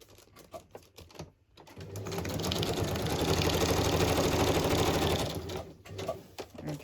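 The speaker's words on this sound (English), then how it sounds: "I'm just going to stitch right across there." A sewing machine stitches straight across fabric in one continuous, rapid mechanical run lasting a few seconds, with quieter handling clicks and rustles before and after.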